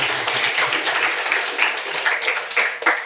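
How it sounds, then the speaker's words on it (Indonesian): A studio audience at a televised political talk show clapping, a dense wash of hand claps filling the whole moment, close and fairly loud with some voices mixed in. "Oke, tepuk tangan dong"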